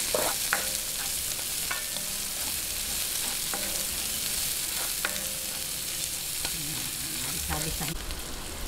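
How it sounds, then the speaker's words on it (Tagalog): Garlic and onion sauté in a pan as the base for pork belly hamonado, giving a steady close sizzle broken by repeated scraping stirs. "Ngayon, umpisahan na po natin yung paggigisa. Unahin po natin ang bawang."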